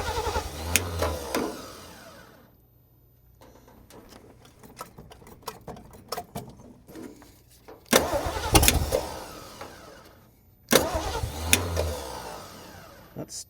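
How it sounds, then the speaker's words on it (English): Starter motor cranking a car engine being timed for a duct tape drag race build, heard in three loud bursts with quieter mechanical ticking and whirring between them. "That's starter."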